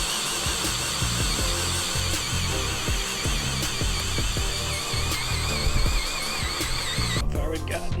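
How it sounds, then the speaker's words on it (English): A power drill runs steadily at high speed, grinding and whining through the bottom of a boat's hull for several seconds, close and loud. "Kind of weird drilling a hole in the bottom of my boat like this."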